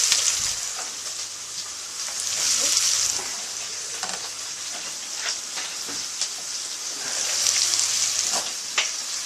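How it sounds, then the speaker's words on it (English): Peppers and onions sizzle steadily in a hot pan, a broad frying hiss that swells and eases with occasional stirring clicks and a faint low hum underneath. "So those onions are sweating down quite nicely now. So what we're going to do, chuck the peppers in."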